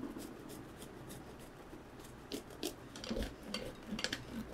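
An eggplant with its skin on is grated on the coarse side of a grater, producing faint, scratchy rasping strokes in an irregular rhythm, close by and quiet, with no talking.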